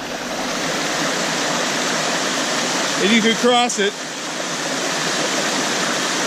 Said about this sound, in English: All that water.